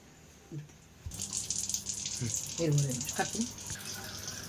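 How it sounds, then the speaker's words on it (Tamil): Water pours from a tumbler in a steady splashing stream into a pot, with a few brief bits of speech and clinks around it. "இந்த டம்ளரில் 2 டம்ளர் தண்ணி ஊற்றுறேன்"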